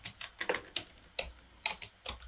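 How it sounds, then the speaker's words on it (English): Keys tapped on a computer keyboard, about a dozen sharp clicks in uneven bursts, close and moderately quiet with no voices. "I'm going to type in the same message"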